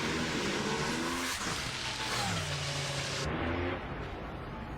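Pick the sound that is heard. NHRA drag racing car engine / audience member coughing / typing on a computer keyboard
NHRA drag racing car engine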